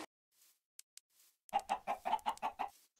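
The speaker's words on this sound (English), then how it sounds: "So I brought over some chickens." Chickens in the Minecraft FTB modpack game, a few faint isolated clicks and then a quick rhythmic run of seven or eight close, distinct clucks.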